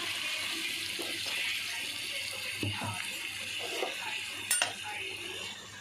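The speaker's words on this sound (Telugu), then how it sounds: "ఇందులోనే కొంచెం కోపలో వాటర్ పోసుకొని" Water is poured into a pot of chicken curry with yogurt. It makes a faint, steady splashing wash with a few small clinks, and there is no talking.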